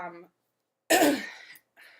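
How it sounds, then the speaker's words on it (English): A single short throat-clearing cough, close and fairly loud, with a brief voiced sound just before it and another faint noise after. "if I cough a lot, I really am apologetic"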